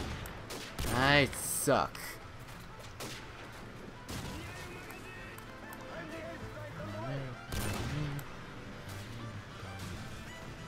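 Gunfire in a first-person shooter video game: a loud burst of rapid shots near the start, followed by scattered single shots and a second sharper burst later, with a player talking over the action.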